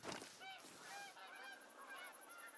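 A flock of geese in the hunting game The Hunter: Call of the Wild honks repeatedly from a moderate distance, overlapping calls rising and falling over a few seconds after a brief initial noise.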